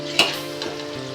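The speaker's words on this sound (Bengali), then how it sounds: "তো দেখো আমার প্রায় ভাজা কমপ্লিট হয়ে এসছে" Palm fruit fritters (taler bora) deep frying in hot oil give a loud burst of bubbling sizzle that settles into a steady crackle over a short moment, with no talk.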